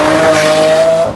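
Lamborghini Aventador S with a carbon fiber wing driving, a loud sustained engine tone holding steady with a faint tire squeal before it fades out at the end.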